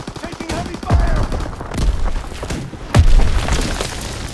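Gunfire and explosions in the video game Call of Duty WW2, with dense rattling shots and a couple of heavy booms near one and three seconds.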